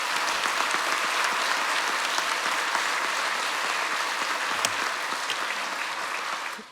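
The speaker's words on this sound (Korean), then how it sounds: "우리 멀리서 박수 한번 하겠습니다" A church congregation at Seoul Pyeonggang Church's 50th-anniversary service gives sustained, even applause. The many hands blend into a continuous wash that holds steady before cutting off abruptly at the end.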